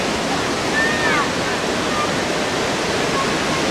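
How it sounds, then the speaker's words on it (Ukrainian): Steady broadband roar of rushing water at the Dzhuryn waterfall in Ternopil region, Ukraine, where a river pours over the falls, loud and continuous throughout with a faint high bird-like chirp briefly above it. "Це в нас річка"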